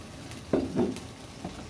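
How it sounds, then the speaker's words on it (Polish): Brief clattering and stirring over a faint sizzle of frying oil, a few short scraping bursts, close by. "smażymy resztę"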